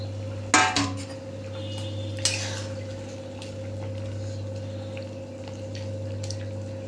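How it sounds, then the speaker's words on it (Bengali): Shrimp and eggplant are dropped into boiling masala in a pot, making a couple of clattering splashes over a steady low hum and gentle bubbling. No one speaks. "মাছ আর বেগুনগুলো দিয়ে দেবো"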